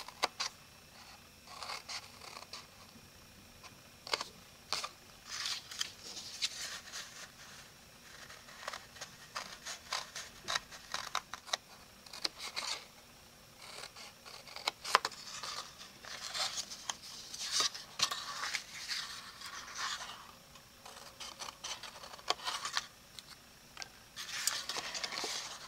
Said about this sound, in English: you're going to take your scissors and you're going to snip out the very center